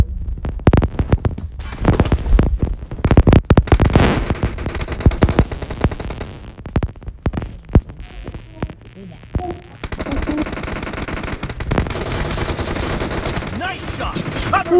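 Gunfire in the video game PUBG, rapid automatic bursts and single shots crackling loud and close at first, then thinning out under a low hum and game ambience.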